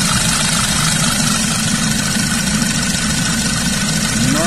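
A 2010 Audi A4 Quattro engine idles steadily in the workshop, a constant dense hum and whir close to the microphone with no variation and no voices.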